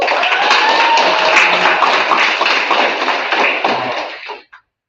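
Strong, sustained audience applause for Mr. Jennings at a young men's mentoring culminating program, a dense roar of clapping that fades and cuts off near the end.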